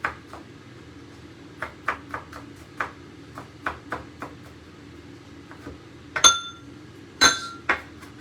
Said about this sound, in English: finely chopping this garlic.